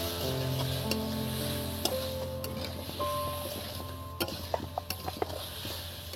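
Ground coriander and spices sizzling in a pan as a little water is added for aloo dum, a steady soft hiss with scattered clicks and faint stirring.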